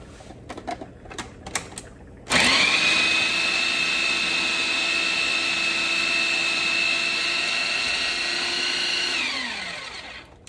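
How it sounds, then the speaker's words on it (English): An immersion blender whirs loudly and steadily through homegrown tomato sauce for about eight seconds, starting abruptly after a few faint kitchen clatters and then winding down at the end. "we are going to use the immersion blender to blend up our sauce completely"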